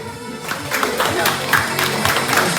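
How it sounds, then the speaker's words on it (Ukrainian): Audience at a Ukrainian school graduation award ceremony applauds, with dense, continuous clapping that fills the room and pulses slightly. Voices are mixed in with it. "Ваші оплески."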